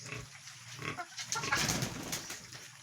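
Piglets 32 days old on a farm grunt and squeal in irregular bursts at close range, with feeding sounds mixed in and no talking.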